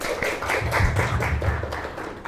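A crowd claps together at an Islamic student alumni organisation gathering, a dense steady patter of many hands lasting a couple of seconds, close and fairly loud, with a low rumble underneath.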